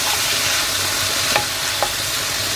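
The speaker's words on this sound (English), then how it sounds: "add my prawns. They won't take long to cook at all." Prawns frying with garlic in a pan, a steady close sizzle with a few sharp clicks of a utensil against the pan, no talking.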